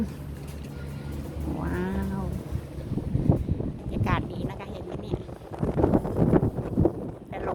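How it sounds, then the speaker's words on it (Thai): Strong cool wind buffets the microphone on a riverboat trip in Ayutthaya, a low rumbling roar under someone talking, with a motor drone and passing water noise behind. "แรงไปหน่อยลมเย็นนะคะ"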